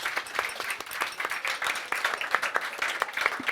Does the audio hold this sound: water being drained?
no